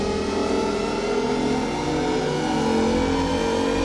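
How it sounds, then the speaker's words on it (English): Synthesized Shepard tone effect, the rising-pitch illusion known from the Tron bikes, heard as a dense, steady layered drone with a continuous upward-seeming sweep, loud and unbroken for the whole stretch. "This is a sound effect which gives the illusion of a constant rising pitch"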